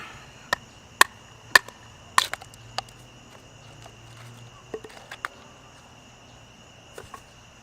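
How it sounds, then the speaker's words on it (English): Sharp, dry knife strikes splitting wood for fire tinder with a Gemini M Tech 113 knife, outdoors, a series of about ten irregularly spaced chopping knocks, some louder and some fainter, over a faint background of insects chirping. "Just batoning some wood down into some fire tinder."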